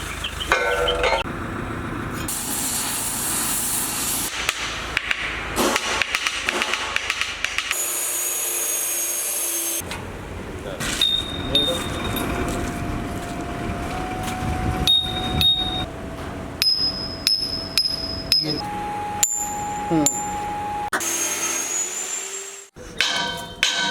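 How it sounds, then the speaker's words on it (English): Steel tubes of several sizes and diameters are struck one by one, giving bright metallic rings at different pitches. They follow a stretch of noisy, rustling clatter. "how can I get different sounds from this, because all are steels, different sizes of tubes only"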